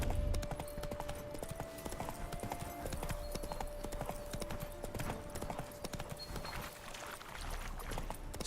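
Steady clip-clop of horse hooves in The Witcher 3 video game, an even trotting rhythm heard close with a quiet sustained musical tone underneath, no talking.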